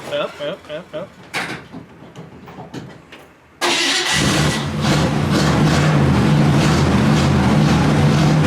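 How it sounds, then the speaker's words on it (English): A 1956 Chevrolet Bel Air barn find is heard first with scattered thumps and brief voices, then the engine abruptly fires up and settles into a loud, steady, close running rumble for the rest. "I was very briefly driving a 56 Bel-Air."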